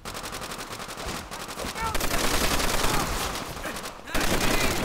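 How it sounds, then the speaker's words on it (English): Dense, loud automatic gunfire from a World War II shooter game, Call of Duty: World at War, rattles continuously in rapid bursts with a brief gap near the end before firing resumes. "I'm shooting my own guys."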